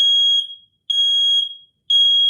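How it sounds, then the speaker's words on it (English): Shrill electronic beeps from a smoke alarm, three in a row with brief pauses, loud and close, with nothing else audible around them. "Heads up, there's smoke. The alarm may sound. The alarm is loud."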